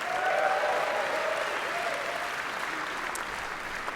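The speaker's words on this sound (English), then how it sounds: "And clap for me, everybody." A large audience at the 18th Annual D.I.C.E. Awards in 2015 applauds the host, a steady, full wash of clapping with a few faint cheers that slowly eases off.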